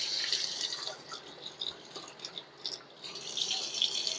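A kitchen tap runs steadily while an egg is washed under it, giving a close, continuous splashing hiss with small fluctuations as hands move through the stream.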